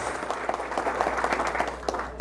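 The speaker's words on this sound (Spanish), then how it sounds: "Los aplausos fuertes para los novios." Crowd applause for newlyweds at a mass civil wedding ceremony, a brief burst of many hands clapping in a steady patter, fairly distant in a large gathering.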